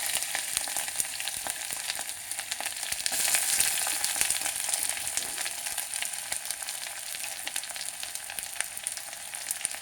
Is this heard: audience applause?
no